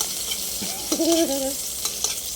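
Garlic and onion sauté in a pan with a steady hiss of sizzling oil, broken midway by a brief rising and wavering tonal squeal.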